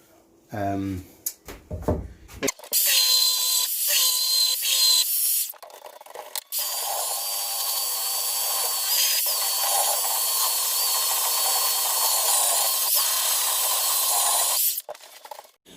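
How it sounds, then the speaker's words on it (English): Power sander working plywood end grain coated with resin: a loud, steady whine holds for about eight seconds, preceded by several shorter bursts and handling knocks and followed by a brief clatter once it stops. "if you sand over resin for too long, it starts getting a bit hot and a bit tacky"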